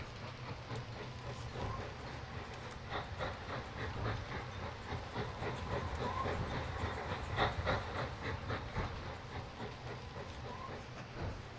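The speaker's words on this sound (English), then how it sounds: "In the distance, you can see the other train coming up." A train from the Mashinky transport game rolls along with steady rhythmic clatter and a faint hiss under a low background hum. It sounds fairly distant and keeps an even level throughout, with no voices.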